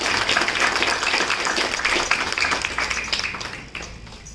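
A crowd applauds to welcome ward representatives at a municipal class-closing ceremony in Tokha, the clapping dense and steady throughout, easing slightly toward the end.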